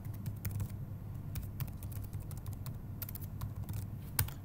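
Fingers typing a name on a computer keyboard, a quick irregular run of crisp key clicks, close and clear, over a faint low room hum with no voices.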